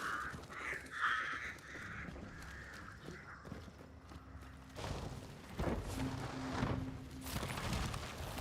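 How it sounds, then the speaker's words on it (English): A flock of crows in the Hunt: Showdown video game caws in repeated harsh calls, some near and some farther off, over rustling game ambience. "I have some people looking down this way since I set off crows."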